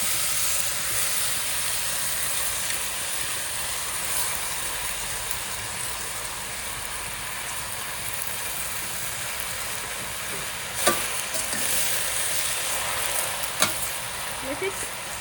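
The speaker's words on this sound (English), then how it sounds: "Now I'm going to add the chopped palak." Chopped spinach frying in hot oil with spluttered mustard seeds for palak dal, an even, hissing sizzle throughout with a couple of sharp stirring clinks near the end.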